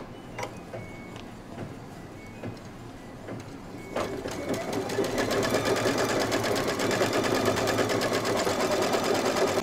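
Sewing machine stitching an appliqué quilt piece: scattered clicks and taps for four seconds, then a loud, continuous rapid mechanical whir of stitching carrying on to the end, close by with no talk.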